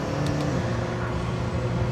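A McLaren P1 GTR's engine drones steadily while driving, a loud, close, continuous rumble from inside the car with no talk.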